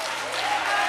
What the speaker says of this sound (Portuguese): Se quiser aplaudir, fica à vontade.